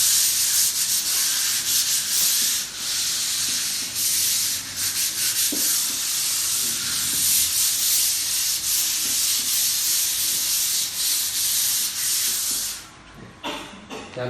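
A surface sanded smooth before cement-look wash paint is applied, giving a loud, continuous scratchy rubbing in long strokes that briefly eases near the end.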